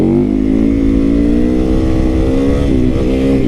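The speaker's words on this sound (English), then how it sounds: "The throttle, I'm just gonna crank the throttle." A 2024 KTM 690 SMC R supermoto single-cylinder engine revs loud and close as the throttle is cranked, a steady, strained roar that climbs slightly and holds for several seconds with no talk.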